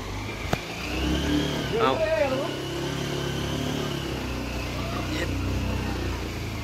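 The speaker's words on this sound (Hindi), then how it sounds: "ये देखो हम अभी जा रहे हैं गाड़ी से ऊपर।" A car climbs a hill road toward the Khandoba temple in Ghatkopar, its engine a steady mid-pitched hum with a sharp knock near the start and voices talking over it.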